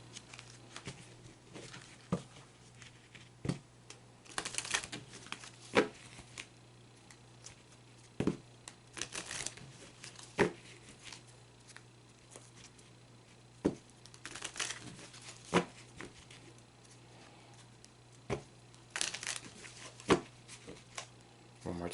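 A deck of Inner Wisdom Oracle cards is shuffled by hand in scattered soft slaps and brief papery riffles, spaced irregularly over a steady low electrical hum, quiet and close with no talking.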